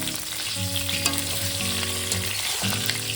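Potato pieces fry in hot oil in a home kitchen with a loud, continuous sizzle. A steady tonal hum runs underneath.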